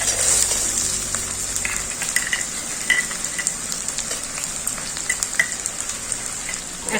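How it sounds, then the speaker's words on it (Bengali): Chopped onions sizzle and crackle in hot oil with whole garam masala of cloves, cinnamon and a bay leaf, a steady close frying hiss with scattered pops and occasional stirring throughout. "গরম মশলাগুলো সব ভাজা হয়ে গেছে, এর মধ্যে কেটে রাখা পেঁয়াজ দিয়ে দেবো"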